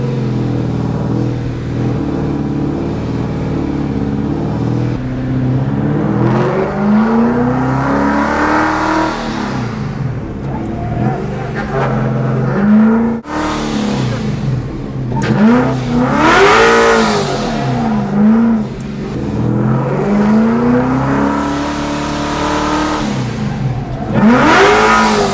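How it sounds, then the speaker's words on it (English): A drift car drives slow laps on a course to put heat into its brake pads, its engine revving up and easing off in repeated surges at moderate distance, with no talk. "just do a drive around and drag some heat into the pads again real quick"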